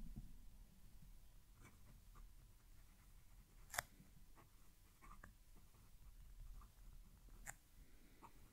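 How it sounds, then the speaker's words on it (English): A Narwhal Nautilus fountain pen scratches softly across paper up close, with faint irregular strokes and a couple of sharper ticks against a quiet background. "I'm going to move the mic down to the paper so you can hear the pen writing."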